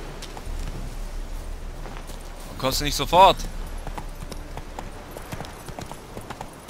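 Rhythmic clip-clop of horse hooves trotting steadily under game ambience in The Witcher 3: Wild Hunt, while a person speaks briefly in the middle.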